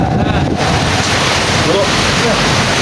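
Steady rain falling during a monthly religious gathering in Marabahan, a dense, continuous hiss throughout, with a faint voice underneath.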